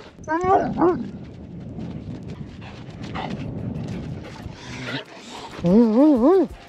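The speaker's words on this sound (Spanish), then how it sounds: "Como le gusta hablar a esta perra, de verdad" A female dog barks, whines and vocalizes in a van during a sandstorm, with long rising-falling howl-like yowls near the start and again at the end, loud and close, while a person talks softly in between.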